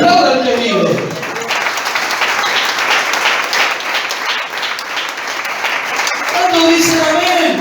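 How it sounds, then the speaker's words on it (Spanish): A church congregation breaks into sustained applause, a dense wash of many clapping hands that swells after a preacher's voice and fades as he resumes speaking. "Aplauda al que vive."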